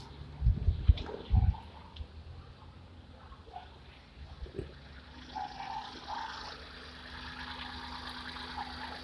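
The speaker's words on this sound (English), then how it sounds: "the idle is smoother. It basically ran or started right away" A Hyundai Eon engine idles smoothly after an ignition repair, a steady mid-pitched hum following a few loud knocks near the start, with no voices.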